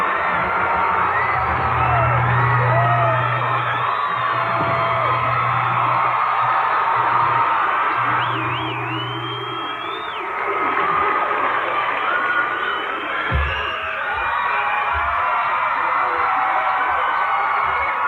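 A large concert crowd at the 1990 Billboard Music Awards screams and cheers continuously, a loud, dense wall of high-pitched shrieks and whoops that dips briefly and then swells again.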